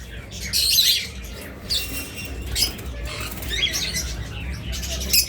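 A pair of orange-head opaline red-eye pet birds squawk and chirp in harsh, repeated bursts at close range, with scratchy rustling between calls and no talking.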